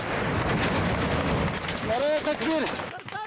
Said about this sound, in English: Gunfire and rocket-propelled grenades set the outpost on fire.